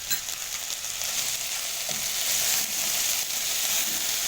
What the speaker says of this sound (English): So next I'll throw in all the spices once, like that.